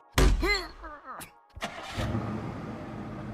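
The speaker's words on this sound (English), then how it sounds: "I heard an engine start." A car engine cranks and catches, then settles into a steady idle after a short thump.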